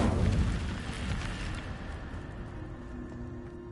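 The Incendio fire spell cast in Hogwarts Legacy, a loud whooshing burst of flame that swells at once and then slowly dies away into a softer roar with a faint lingering tone.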